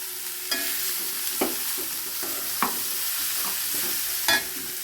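Chopped bitter gourd fries in a pan with ground spices, chilli powder and turmeric, giving an even low sizzle under several distinct spatula scrapes and knocks as it is stirred.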